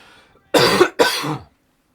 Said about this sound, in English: I need to cough away from the mic